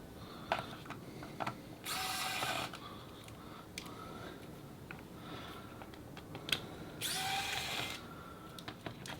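A mini electric screwdriver backing out laptop battery screws: two short whirring bursts of the little motor, each about a second long, with faint clicks and handling noises around them, close and quiet with no talking.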